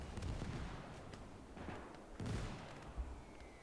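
Mortar fire in Gates of Hell during a Finland skirmish, a few distant muffled thumps and rumbling blasts over a low battlefield wash, fairly faint with no talk.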